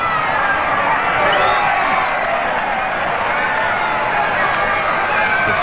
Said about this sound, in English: Bringing a roar from the crowd with his tackle on Hopewadi.